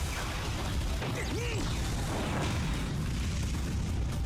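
An explosion effect from the One Punch Man anime rumbles as a dense, sustained roar with low booming energy that stays loud and even throughout.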